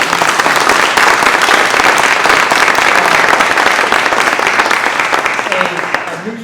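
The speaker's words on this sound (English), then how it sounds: "Please, a round of applause." Sustained audience applause fills a hall after a township trustee candidate debate, dense and steady clapping that holds strong for several seconds before thinning slightly at the end.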